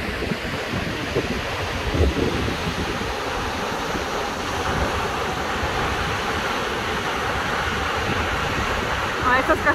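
A large waterfall roars steadily outdoors in the western wilderness, a dense continuous wash of falling water with gusts of wind buffeting the microphone and faint voices nearby.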